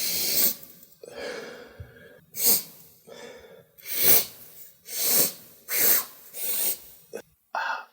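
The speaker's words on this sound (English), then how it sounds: "Fake sneezes and maybe real sneezes if I manage to catch them on audio" Repeated sneezes, some forced and some real, after sniffing ground pepper: about seven sharp bursts spaced a second or so apart, close and loud, with snorting breaths and gasps between them.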